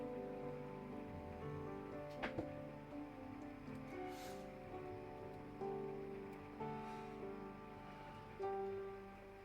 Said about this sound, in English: it's fucking pouring down rain outside.